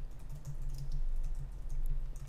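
Typing on a computer keyboard while designing a travel website in Figma, quick light key clicks in a short burst, close and quiet over a low hum.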